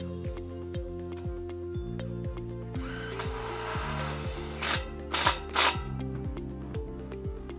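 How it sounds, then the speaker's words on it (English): A power drill drives a tech screw through the top rail of a garden or pool fence, its motor revving in repeated pulses with a grinding bite and a few sharp bursts near the end. "fix off the internal clip through the top rail with a tech screw"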